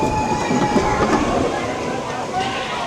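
A roller coaster train rumbles and clatters along its track at close range, a steady mechanical roar with faint squeals, while people talk over it.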